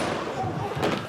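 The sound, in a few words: gunshot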